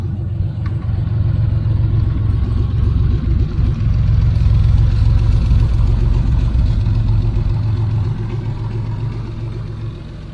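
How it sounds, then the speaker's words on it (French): A Porsche 964 Carrera 2 flat-six idles close by outdoors, a steady deep rumble with a faint mechanical patter that holds evenly throughout before easing slightly near the end. "Et on va écouter un peu le bruit du moteur."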